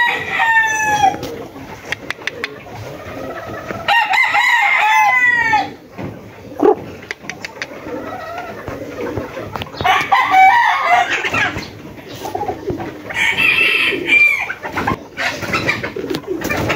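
Gamecock stags of Sweater and Golden Boy bloodlines crow repeatedly and fairly close, with clucks and other fowl and bird calls mixed in among them across a busy outdoor yard.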